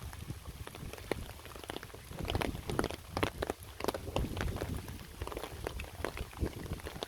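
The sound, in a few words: heavy rain on bypass road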